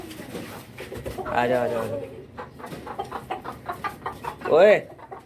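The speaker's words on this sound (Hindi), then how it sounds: "और दूसरा मुर्गा मुर्गी को भी खोलते हैं।" Chickens cluck and squawk close by, with a louder squawk near the end, while a person talks over them.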